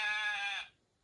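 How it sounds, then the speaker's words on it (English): A single short sheep bleat from a Soundtraxx Tsunami SoundCar sound decoder installed in an HO scale Bachmann cattle car, clear and close, cutting off to near silence after about half a second. "it's really not consuming any power other than making the sheep noise"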